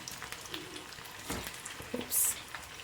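Chicken 65 pieces deep frying in hot oil, a low continuous bubbling sizzle with a couple of louder bursts and splashes as pieces are handled, close and fairly quiet.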